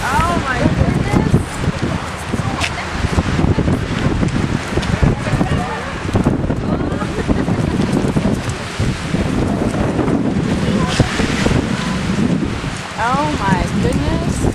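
Strong wind at the Grand Canyon buffets the microphone with a constant, loud roar and gusty rumble, while people talk and exclaim over it throughout.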